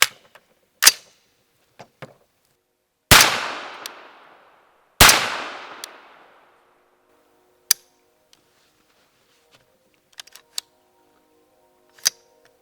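A 300 Blackout rifle loaded with subsonic factory ammunition fires sharp, loud shots, with two big reports a couple of seconds apart after a lighter crack, followed by scattered metallic clicks and handling noises.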